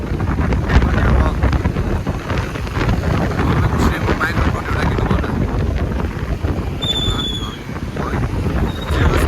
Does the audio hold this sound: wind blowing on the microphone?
yes